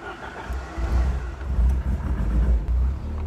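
A Ford Cosworth engine that has just started, idling and revving with a deep, rumbling low note that swells and dips, close by with no talk.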